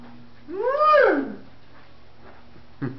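A dog gives a single rising-and-falling whimpering howl lasting under a second, fairly close, followed by quiet and a brief faint knock near the end.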